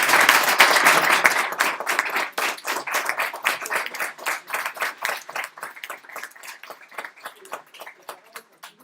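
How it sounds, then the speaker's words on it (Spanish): An audience at a rocket propulsion seminar applauds, starting as a loud dense burst and thinning into scattered individual claps that fade out. "Un aplauso para"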